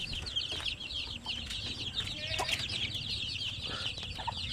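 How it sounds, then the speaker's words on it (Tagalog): A flock of one-month-old chicks cheeping constantly in high, rapid peeps at a farm breeding pen, fairly faint and continuous over a low background murmur. "Yan po yung sisiw na 1 month old."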